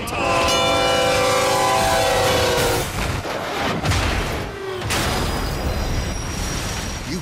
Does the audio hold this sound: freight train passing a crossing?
yes